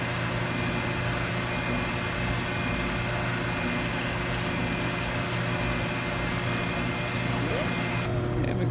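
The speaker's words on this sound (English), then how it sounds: "there is really nothing like a spindle sander for getting inside corners like that." A VEVOR benchtop oscillating spindle sander runs at 2000 RPM while sanding inside corners of a workpiece, giving a steady loud motor drone with a rough abrasive rasp throughout.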